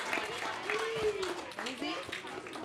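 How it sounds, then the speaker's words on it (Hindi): Scattered clapping from an audience at a children's theatre camp event mixes with children's voices talking over it, moderately quiet and uneven. "जोरदार तालियां"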